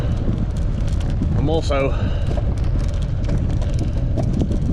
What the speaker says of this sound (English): I'm noticing the wind